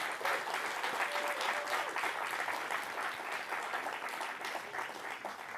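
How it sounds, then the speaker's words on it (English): Sustained applause from an audience at an awards ceremony honouring award recipients, a dense steady wash of many hands clapping at even loudness throughout, with no voices rising above it. "give one more round of applause for all the award recipients tonight"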